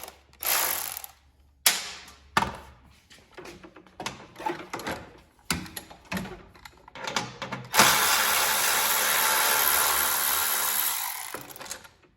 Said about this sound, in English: So we're gonna go ahead and take off this bolt here, and this bolt here.